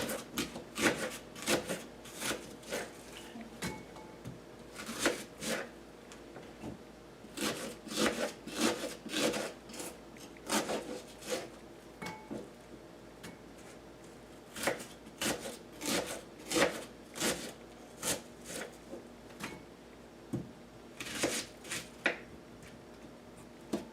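Knife slicing chicken pieces in half and lengthwise on a cutting board for Italian chicken and rice, a steady series of close, crisp chopping and scraping strokes in irregular rhythm, with no talking.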